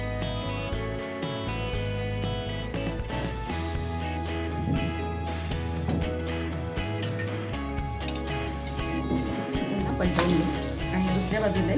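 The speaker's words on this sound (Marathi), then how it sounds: "दोन्ही बाजूंनी पराठा आपल्याला चांगला खरपूस भाजून घ्यायचा आहे" A beetroot paratha sizzles and roasts on a hot griddle, a continuous close crackling hiss layered with tonal background sound and scattered clatter, no talking.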